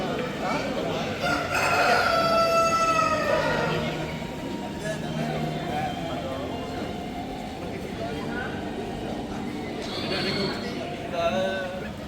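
Rhode Island roosters crowing at a large purebred chicken show in Malaysia, several long crows rising over a busy crowd with clucking fowl and people talking throughout.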